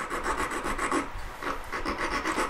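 A file rasps rapidly back and forth on a model tree branch, giving close, continuous rough strokes in an even rhythm.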